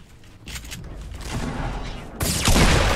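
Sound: gunfire in video game Fortnite

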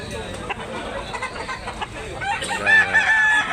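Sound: white-legged gamecock rooster crowing and clucking

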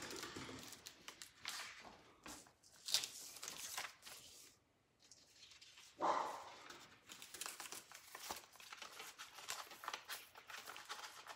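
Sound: dogs barking

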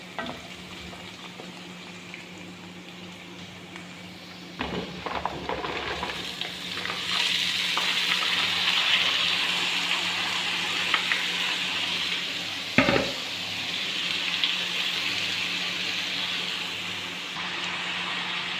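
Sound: green chillies frying in a pan

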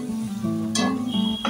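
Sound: sautéing crushed ginger and garlic with onion in a pan

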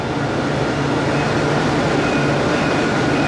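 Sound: Dubai tram ride

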